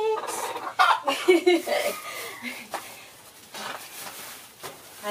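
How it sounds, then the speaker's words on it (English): A hen clucks in a backyard chicken coop, giving a run of close, fairly loud clucks and soft calls over the first two seconds and then fainter ones, with a person talking in between. "another chicken here inside, guys"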